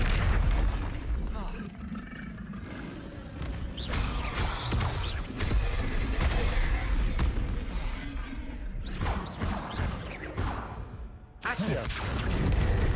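Expelliarmus spell effects in the Hogwarts Legacy video game burst out as booming, crackling blasts, several in quick succession, over a dense, loud game soundscape.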